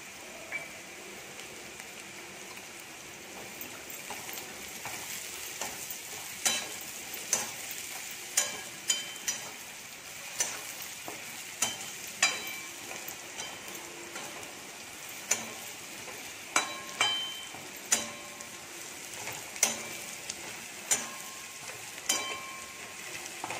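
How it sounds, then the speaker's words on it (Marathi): Peanuts frying in hot oil in a pan for kande pohe, a continuous soft sizzle with scattered sharp pops and crackles throughout, close and steady without talk. "आता आपण शेंगदाणे टाकून घेऊयात"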